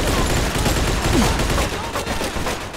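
Gunfire in the Mafia 2 video game, a dense continuous barrage of rapid shots with rattling bursts and booming low thumps, loud and close throughout.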